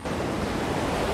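Sea waves in a Doraemon cartoon, a short, steady wash of surf and rushing water, fairly loud with no voices.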